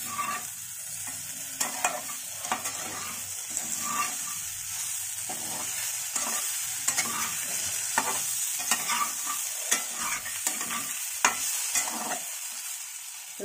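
Drumsticks stir-fried in a pan with Kashmiri chili powder, a steady sizzle broken by repeated scraping spatula strokes, close and fairly quiet.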